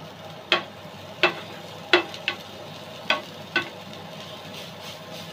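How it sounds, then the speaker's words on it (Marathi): Takla (Cassia tora) leaves with turmeric sauté in a pan over low heat, a soft steady sizzle broken by about seven sharp scraping stir strokes at irregular intervals. "परतून घेऊयात आपण ही देखील"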